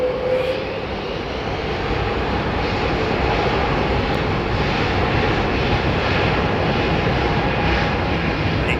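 A loud, steady roar of airplane jet engines at London Heathrow Airport, constant and close, filling the whole stretch without a break.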